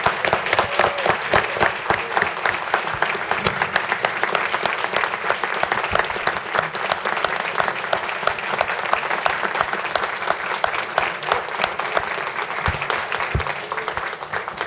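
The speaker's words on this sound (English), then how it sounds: "So let's give our youth, our future, another round of applause." A long, sustained round of applause from a city council meeting audience for local youth, loud and even with dense rapid claps throughout and a faint crowd murmur underneath.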